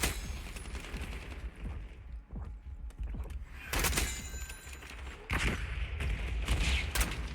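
Gunfire in an online shooter game, with bursts of rapid shots and heavier blasts coming in clusters, loud and close, without talk.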